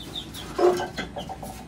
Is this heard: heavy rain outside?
no